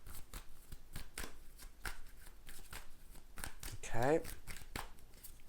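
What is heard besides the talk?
shuffling tarot cards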